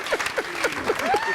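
Brief burst of audience applause at a comedy show, with cheering voices mixed into the clapping.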